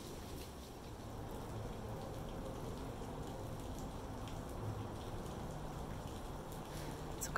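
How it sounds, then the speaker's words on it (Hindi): Rain falls on a balcony in cold weather, a steady soft patter with scattered drip ticks, faint and continuous throughout. "तो काफ़ी ठंडा कोल्ड वेदर है यहाँ पर और बारिश भी हो रही है."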